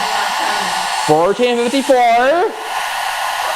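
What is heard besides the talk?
hair dryer and kettle running together on portable power station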